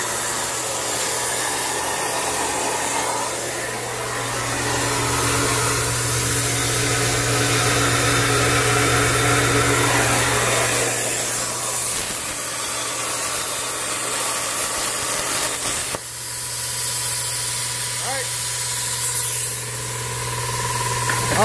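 An air compressor runs steadily in a plasma cutting shop, giving a loud, continuous broadband hiss over a low hum with a slight shift partway through, and no talking.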